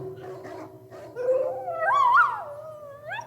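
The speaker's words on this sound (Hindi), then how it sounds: "जाओ, इन पर शिकारी कुत्ते छोड़ दो।" In a period drama scene, a hunting dog lets out a drawn-out howl that rises and wavers in pitch, preceded by low whines, heard fairly close against quiet background.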